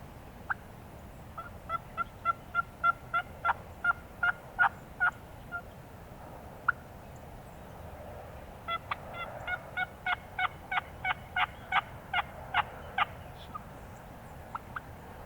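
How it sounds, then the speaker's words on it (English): Wild turkeys gobble in two bursts of repeated rattling calls, roughly 120 yards off to one side during a spring turkey hunt, moderately distant and clear over quiet woodland. "I hear some birds gobble to our right, about 120 yards."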